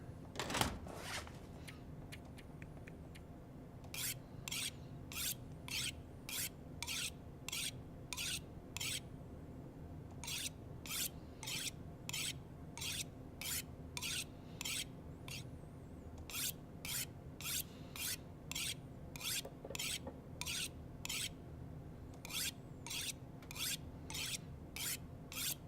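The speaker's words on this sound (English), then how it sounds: "I have a knife, don't I? Yeah. Let's sharpen that bad boy." Steady rhythmic rasping of a knife being sharpened, dozens of even strokes in regular bursts with brief pauses, close and moderately loud over a low background hum, with no talk.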